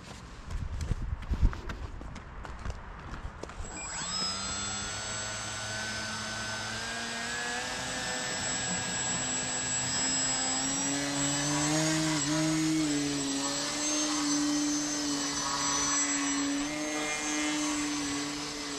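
XF1 Pogo prototype VTOL drone hovering without a gyro, a steady high-pitched motor whine that rises and wavers in pitch, holding continuously for most of the span after a scuffling start.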